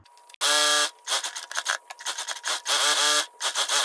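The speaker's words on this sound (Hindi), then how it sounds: "चलिए इसमें हम सिलाई लगा लेते हैं।" A sewing machine stitches a double-folded pant hem, with loud, close mechanical buzzing in several start-stop runs separated by short pauses.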